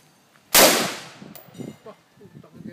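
One sharp, loud pistol shot on a shooting range bursts out and rings off, followed by quieter clanks and faint voices in the background.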